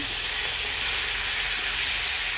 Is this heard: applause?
no